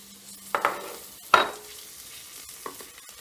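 Chopped tomato goes into a pan of frying aromatics for coconut curry lentils, with a few sharp stirring scrapes and clinks over a soft, low sizzle.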